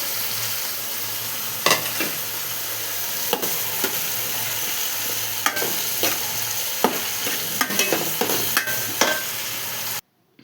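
Tomatoes sizzling in hot oil in a frying pan with cooked peas, giving a steady loud frying hiss broken by repeated scraping stirs of a spatula against the pan, close up with no talking, ending abruptly.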